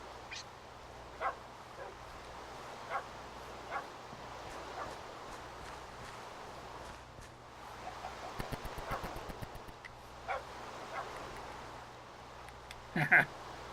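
Dog in the Minecraft video game giving a series of short, faint barks and yips spread across the clip, with a brief burst of rapid clicking in the middle and a sharper sound near the end.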